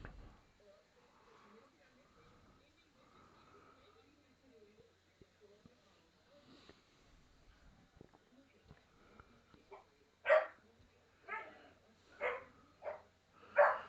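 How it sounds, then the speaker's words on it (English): A dog barks in the background, a handful of faint, distant barks spaced out near the end after a stretch of quiet murmuring. "Hear the dog barking in the background there."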